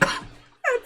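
A person imitates a big, loud sneeze during a tabletop role-playing game session, a single short burst with a sharp explosive start, a brief lull, then a strong voiced release.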